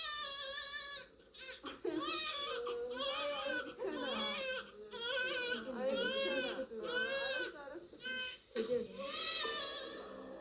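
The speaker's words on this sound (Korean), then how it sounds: "자, 엄마와 아기의 새로운 동행은 아기의 건강한 울음소리로 시작됩니다." A newborn baby cries just after birth in a delivery room, letting out loud, repeated wailing cries in bursts separated by short gasping pauses, close and dominant throughout.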